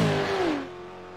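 A V8 Supercar race car at top speed flashes past in a single brief engine howl. The pitch drops quickly as the car goes by, then fades to a low residual drone.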